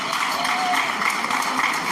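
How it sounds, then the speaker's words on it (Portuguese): Congregation clapping hands in rhythm during a Portuguese-language church service, a steady dense patter of palms that runs the whole time at even loudness. "E bate palmas"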